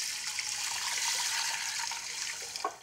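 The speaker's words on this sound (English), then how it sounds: "We'll cover this with some cold water." Cold water pours steadily into a pressure cooker onto uncooked lentils, a continuous splashing rush at close range that eases and ends with a few small splashes. No speech.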